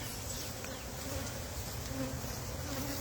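Honey bees buzz steadily around the front and base of a hive, a dense continuous insect drone close by with no talking.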